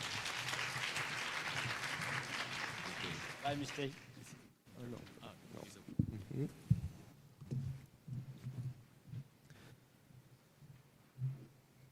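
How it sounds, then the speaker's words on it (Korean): An audience at an international labour-law symposium in a conference hall applauds in a steady, fairly loud burst that fades, followed by a speaker addressing the room over a faint hum. "박수 한번 쳐주세요"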